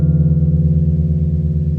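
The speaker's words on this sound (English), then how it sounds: "So if I play a root note and a 2nd together," Two notes, a root and a second, sound together and hold steadily as a sustained interval. The close pitches give a slightly beating, muddy tone with no talk over it.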